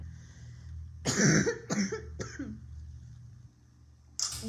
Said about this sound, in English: That was a cough out of nowhere.